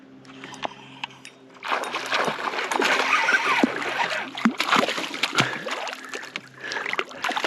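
Water splashes and sloshes against a canoe on a lake during a fishing outing, irregular close splashes and knocks over a steady background hum, loud and alone without talk.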